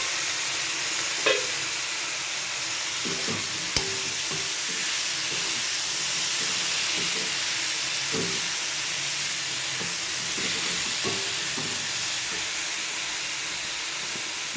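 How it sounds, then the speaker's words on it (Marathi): Finely chopped eggplant hits spiced oil in a pan and fries with a steady, moderate sizzle and hiss. A few soft clinks of stirring come through, and no one speaks. "त्यात आपण बारीक चिरलेली वांगी घालून"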